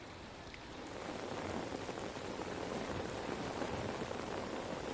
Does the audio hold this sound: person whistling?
no